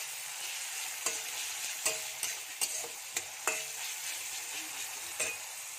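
Soaked chickpeas fry in a pan, giving a faint, continuous sizzle broken by crisp spoon-against-pan clicks roughly every half second, with no talking.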